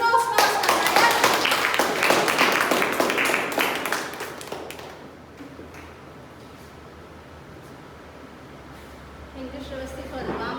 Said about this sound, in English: let us give a big round of applause to Toastmaster Nayanshi